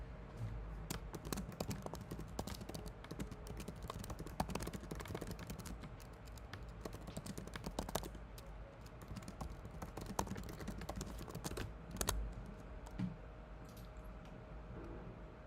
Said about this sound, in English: I was just typing out